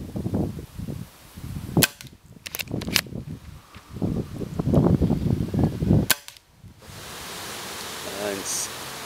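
An M300 airsoft shotgun fires at targets 15 yards away outdoors on a windy day, giving several sharp cracks spaced irregularly, with rustling and movement between shots and steady wind noise at the end.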